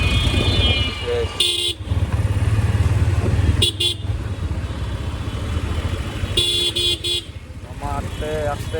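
Highway traffic jam with cars and motorcycles: several short horn toots and honks sound in bursts over a steady engine drone, while someone talks throughout.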